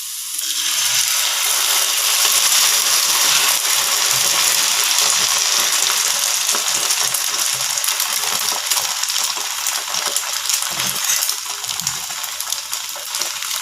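Beaten egg mixture for a spicy omelette hits a hot pan with a loud, dense, continuous hissing sizzle that holds steady from start to finish.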